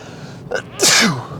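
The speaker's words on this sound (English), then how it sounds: "Sorry, I'm going to sneeze." A single loud sneeze, preceded by a short sharp intake of breath.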